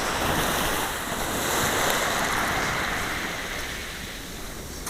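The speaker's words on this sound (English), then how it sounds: "there's the water splashing up like that" Ocean water surges and splashes steadily at sunset, a continuous broadband wash of surf with wind noise across the microphone, no voices.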